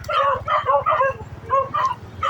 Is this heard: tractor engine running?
no